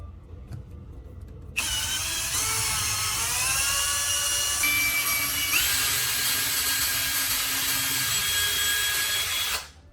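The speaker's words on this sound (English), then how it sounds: "drill a small hole right through the middle about halfway down its height" A loud, high-pitched electric drill whines steadily for several seconds, its pitch shifting slightly as it bites into a metal piece for a knife sharpener, then stops.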